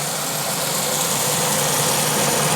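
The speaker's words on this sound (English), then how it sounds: "Let me turn on my exhaust fan there." A kitchen exhaust fan runs over a burger cooking in a pan, giving a steady, loud broadband whoosh with a faint low hum beneath it, unchanging and continuous throughout with no talking.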